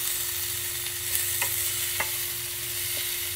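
Butter sizzling steadily in a hot pan while cooking mussels, a continuous soft frying hiss with a few faint stirring clinks, close and alone with no talking.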